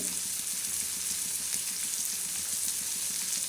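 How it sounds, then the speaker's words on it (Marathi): Tempering of spices sizzles in hot oil for a Maharashtrian usal curry, a steady close bright crackle with a faint rhythmic stirring scrape beneath, no voices. "बघाशी चांगला तडका द्यायचा या पद्धतीने तडका"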